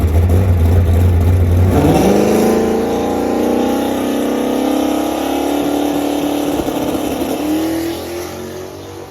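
A drag car launches hard down the track with its trans brake left off, a loud engine roar climbing in pitch as it accelerates, close and continuous before easing off at the end.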